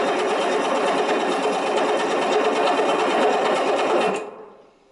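A Mercedes diesel engine on a table, unprimed and without fuel, is cranked by its starter in a steady, fast, loud mechanical whirr that runs about four seconds and then winds down to quiet.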